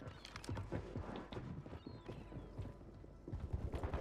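Footsteps of enemy players in a first-person shooter match, heard as quick, faint steps with gunfire-like bursts and a busy game mix, several thuds clustering near the start and end.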